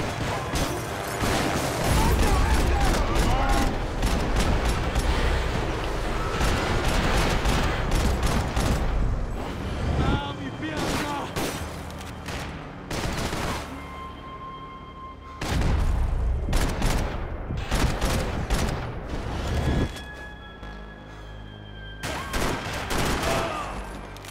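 Gunfire and explosions in the video game Max Payne 3, dense bursts of rapid shots and booms rolling continuously with brief lulls, loud and close, with sparse talk beneath.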